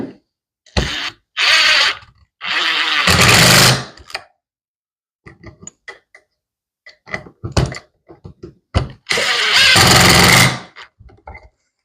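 A power screw gun drives a screw into a clamped piece of wood in short, loud, whirring bursts of varying length, close up, separated by quiet gaps with light clicks and handling taps.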